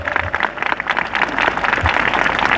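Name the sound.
congregation clapping at a church meeting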